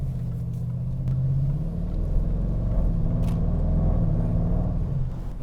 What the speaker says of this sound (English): And it is soft to rev match when it downshifts.